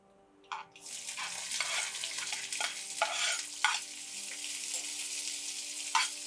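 Sliced sambar onions drop into hot oil with spluttering mustard seeds, for a Tirunelveli-style dal kuzhambu, setting off a sudden sizzle that then holds steady under sharp spoon knocks against the pan, with no talking.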